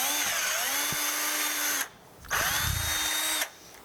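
Power drill boring a hole through the middle of a CD held down with pliers, two loud whining bursts with spin-up and a brief pause between, heard close and alone.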